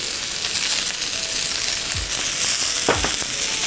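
Onions and cremini mushrooms sauté in a hot pan, a loud even sizzle close by with a few clinks and scrapes of stirring, and no one speaking.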